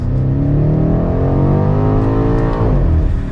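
A 2023 BMW X6 M Competition, driving in automatic mode, revs loudly and steadily with rising engine harmonics, then the pitch drops sharply as it upshifts from second to third gear and resumes pulling.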